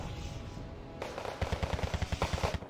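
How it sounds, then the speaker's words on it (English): Rapid machine-gun bursts and gunfire crackle in a Wargame: Red Dragon battle, a quick run of sharp, evenly spaced shots over a rumbling battlefield background. "Where the fuck is this artillery coming from?"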